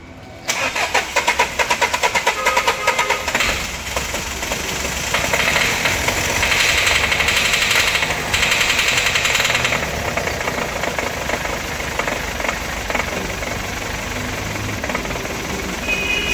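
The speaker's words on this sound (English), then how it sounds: "See, the car has started, but only with artificial help" A diesel car engine, started with the help of petrol, cranks and catches, then runs loud and close with a rough, knocking idle that holds steady for several seconds before easing slightly.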